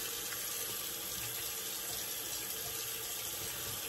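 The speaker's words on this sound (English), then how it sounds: "We'll just rinse off here" Tap water running into a sink while a razor is rinsed, a faint steady hiss and splash throughout with no voices.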